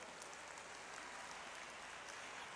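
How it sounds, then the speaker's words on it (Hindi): An audience in Madhya Pradesh claps to welcome Amit Shah at a ceremony releasing Hindi MBBS textbooks, a dense, even wash of applause heard from a distance, faint and uninterrupted. "आइए जोरदार तालियों से हम स्वागत और अभिनंदन करें।"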